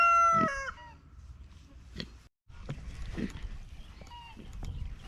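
A farmyard rooster lets out a loud, close crow at the start, followed by quieter clucks and scattered calls from the flock, with a brief cut partway through.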